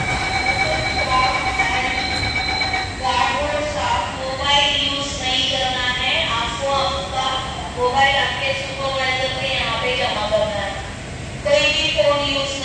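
A Mumbai Aqua Line underground metro train runs between stations, with a steady rumble and high wheel squeals rising and falling throughout, heard from inside the car while someone talks over it.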